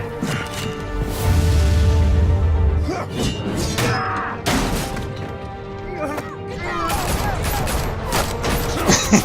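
Gunfire in the Batman: The Telltale Series video game: a loud opening volley of shots and crashing impacts, followed by scattered sharp cracks and clatter, with voices talking over the action.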